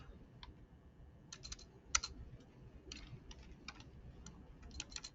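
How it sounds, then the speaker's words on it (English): Scattered clicks of typing on a computer keyboard, quiet and close, in short irregular bursts over a faint background hiss. "Wow, typing's hard right now."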